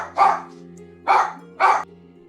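Looping dog barking sound effect, three sharp barks, one then a pause and two more in quick succession, loud and close over a low steady hum.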